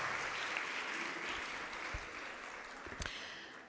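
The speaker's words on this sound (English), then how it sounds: "Let's give a very big round of applause, everybody, for organizing this event." An audience applauds steadily at a motivational speaking event, dense clapping that fills the room and slowly tapers, heard alone without talk.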